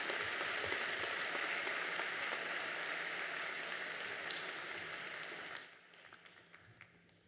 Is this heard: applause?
yes